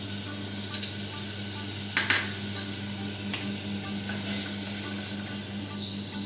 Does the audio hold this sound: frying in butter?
yes